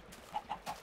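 Chickens in the Minecraft video game give three short clucks in quick succession, evenly spaced, moderately loud and alone.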